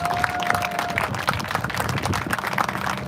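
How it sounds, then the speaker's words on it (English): Audience applause at a highway connectors grand opening ceremony, many people clapping steadily and loudly outdoors with a brief sustained tone at the start. "I want to give you all a big round of applause"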